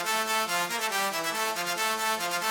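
Synth bass melody layer for color bass, scale-shifted up and formant-shifted up, playing a stepping melodic line of sustained, harmonically rich tones with a steady pulsing rhythm, loud and alone.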